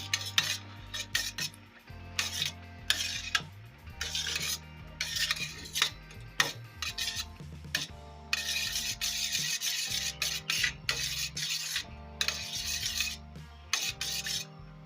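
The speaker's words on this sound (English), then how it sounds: "So let's allow it to mix together. We turn it and then mix together." Aloe vera and shea butter being mixed together in a bowl, with repeated rasping, scraping strokes of a utensil in an uneven rhythm, close and clear with no talking.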